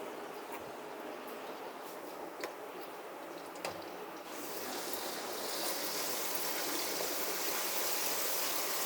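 Garlic and ginger paste goes into hot oil in a wok. A low background hiss turns into a louder, steady broadband sizzle about halfway through and keeps going to the end.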